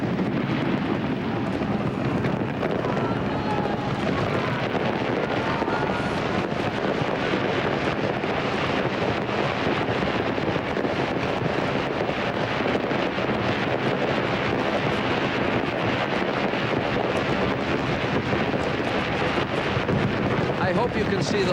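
Fireworks launched from sixteen barges along the River Thames in London at midnight, a dense continuous roar of bursts and crackle blended with wind buffeting the microphone, steady and loud throughout with no clear gaps.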